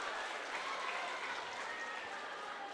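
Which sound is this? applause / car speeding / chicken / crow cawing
applause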